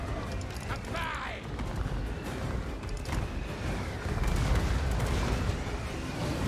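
Enemy army gunfire in a strategy video game, distant rattling volleys and booming shots rolling on under someone talking.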